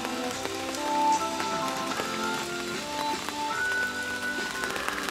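Steady rain patters on a surface around a fishing spot, a constant close wash of drops with faint tonal notes drifting through, no talking.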